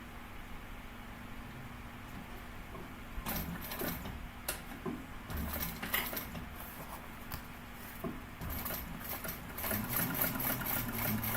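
A sewing machine runs a long basting stitch while a Kensley Tote is being made, its steady mechanical whir starting and stopping in bursts, close and fairly loud, with no talking.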